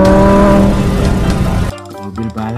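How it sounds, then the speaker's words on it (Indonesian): An orange Ferrari race car engine drones loudly with steady harmonics, then cuts to choppier, fluctuating revs near the end, close and alone. "Mobil balap Ferrari. Widih, warna oranye."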